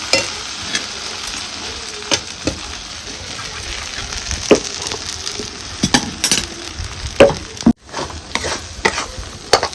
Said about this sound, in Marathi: आपला मसाला तयार झाला एकदम तेल बघा मस्त सुटलेलं आहे एकदम चमचमी चांगला परतून घेतलेला आहे